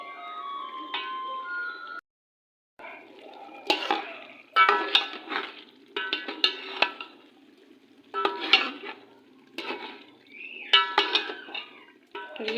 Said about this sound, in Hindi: घी डाल के हम इसको अच्छे से भूनेंगे।